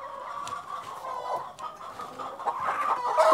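Chickens on a deep-litter floor clucking and murmuring nearby in a steady chatter, with occasional sharper calls rising toward the end.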